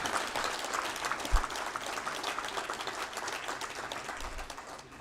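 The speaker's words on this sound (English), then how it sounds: "Let's have a big round of applause, ladies and gentlemen." A conference audience at a C20 India valedictory session gives a big round of applause, steady dense clapping from a large room that slowly fades toward the end, with a couple of low bumps.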